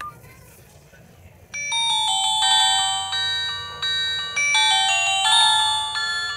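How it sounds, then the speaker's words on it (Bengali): Ringtone of a GDL HOT keypad feature phone plays a bright, repeating electronic melody of tonal notes, moderately loud and close, starting after a short quiet stretch. "বরাবরের মতো যে ফোনটির রিংটোনের যে সাউন্ড সেটা একটু আমরা শুনবো"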